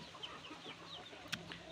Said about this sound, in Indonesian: Ini ada ayam indukan yang saya lepas